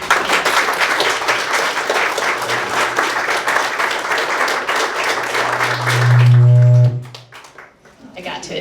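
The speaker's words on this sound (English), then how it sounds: "can we have another round of applause for Ron?" A bookstore audience gives a round of applause for author Ron Currie at an in-store event. The dense clapping runs steadily for about six seconds, then a loud droning hum cuts in before the crowd noise drops away.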